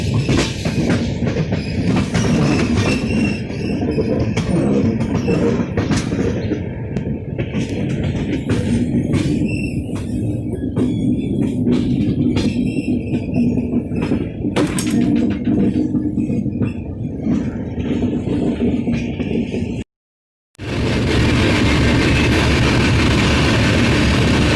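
An air-conditioned LHB passenger train rumbles along the route from Haridwar toward Roorkee, a continuous loud rolling roar with clatter from the wheels, broken by a brief dropout near the end.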